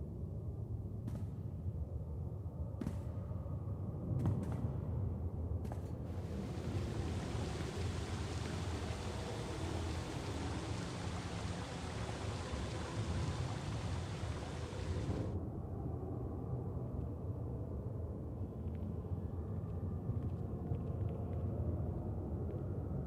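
In the game SWTOR, a steady rain-and-storm wash fills the whole stretch with low rumbling underneath. A brighter hiss swells in partway through and then cuts off, and there are a few faint knocks early on, with no talking.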